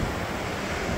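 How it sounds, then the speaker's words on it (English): Ocean surf at Ditch Plains Beach in Montauk makes a dense, steady wash of breaking waves mixed with wind rumble on the microphone, continuous through a single second, with no voices. "Here we are on Ditch Plains Beach."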